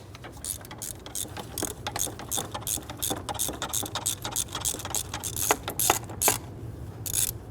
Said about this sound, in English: We're going to use our stubby extension, get on in there, loosen and remove this one.